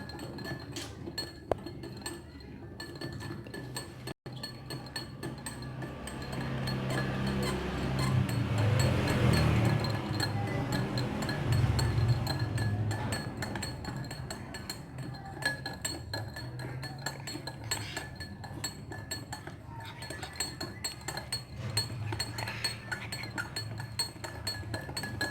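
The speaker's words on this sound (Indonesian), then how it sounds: "setelah kita masukkan gula ke dalam air es dan gula ke dalam air panas, kita aduk secara bersamaan" Spoons stirring sugar in glasses of ice water and hot water, producing a steady run of light clinks and chinks against glass that swells in the middle and continues throughout, close and fairly loud.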